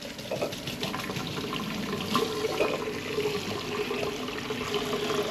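Cold tap water runs steadily into a pot holding six eggs, a continuous splashing fill with slight gurgling, close by and without talk.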